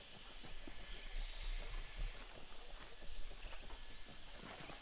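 Horse hooves clip-clopping at a steady, fairly quick rhythm in the video game Red Dead Redemption, a faint continuous patter of many soft hoof falls under a hissy background.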